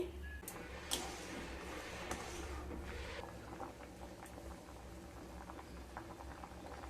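Pieces of raw papaya simmer in a pot of water, a faint steady bubbling and light pattering heard from close by with no one speaking.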